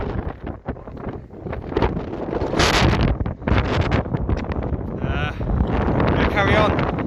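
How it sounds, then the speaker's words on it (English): High wind blasts across the clifftop at Beachy Head, roaring loudly against the microphone in rough, uneven gusts, with a voice speaking partly under the buffeting. "Too windy up here to talk."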